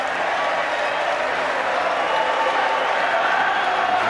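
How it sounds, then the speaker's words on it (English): Northampton Saints rugby supporters at a stadium for a cup final against Leicester Tigers roar and cheer in a steady, dense crowd wash that holds evenly throughout. "There's a big crowd here at Six Ways. Look at that. Saints supporters in full voice."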